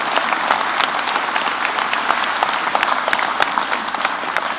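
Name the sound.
audience applause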